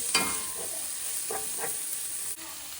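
Raw tomato and garlic hit hot oil in a home kitchen pan, giving a bright continuous sizzle with a few scraping stirs and clinks of a utensil, close and fairly loud with no talking.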